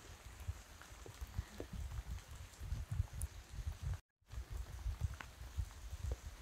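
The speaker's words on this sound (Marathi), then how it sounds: "खूप पाऊस आला होता आणि येतोय पण." Light rain patters during a climb up the stone steps of Jarandeshwar hill in Satara, a soft, faint hiss dotted with close drips and small taps, briefly cut to silence midway.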